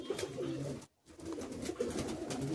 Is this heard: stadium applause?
no